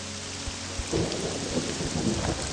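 Steady rain and low rumbling thunder fill an outdoor scene in the video game Morrowind, with a constant hiss of rainfall and deep rolls and thumps, no voices.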